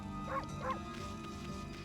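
Two short, distinct dog barks from the video game Okami, evenly spaced close together over a constant low game-music and ambient backdrop, with no talk.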